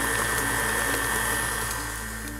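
A stand mixer runs steadily for a couple of seconds as eggs and pure vanilla extract are beaten into chocolate chip cookie dough, a close, continuous motor whir with a faint rhythmic churning.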